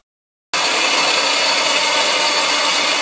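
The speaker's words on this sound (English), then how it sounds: "And in this case I'm going to use a bandsaw. I think it'll be quicker." A bandsaw cutting metal stock for a DIY rocket stove starts abruptly and runs as a loud, steady, hissing grind without pause.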